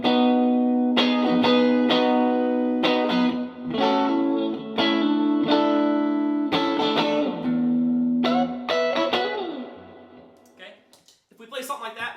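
Overdriven electric guitar through a Supro 1624T vintage tube amp strums sustained chords drenched in reverb, notes blooming and hanging in a spacious wash before a quieter, decaying tail.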